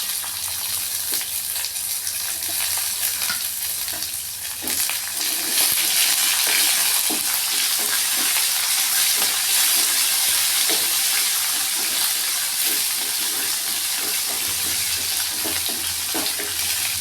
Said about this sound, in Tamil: வெங்காயம் வதங்கிச்சுங்க.